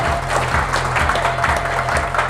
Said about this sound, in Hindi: मैं चाहूंगा जोरदार तालियां उनको, मिस्टर अनिल कुमार जी